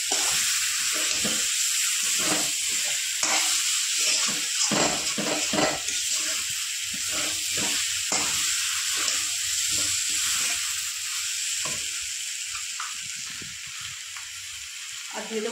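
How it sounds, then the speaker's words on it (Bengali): Spice masala frying in a pan for a rohu fish curry with potatoes gives a continuous bright sizzling hiss, close and steady, with intermittent stirring knocks and a voice talking underneath. "ভালো করে মশলাটা কষিয়ে নেবো।"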